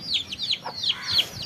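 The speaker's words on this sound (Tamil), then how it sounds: "இது சண்டை கோழி." Fighting rooster chickens give short, repeated high clucks and squawks, close and moderately loud with no talking.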